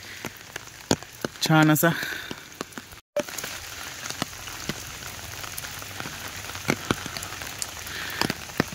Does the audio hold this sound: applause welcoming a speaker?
no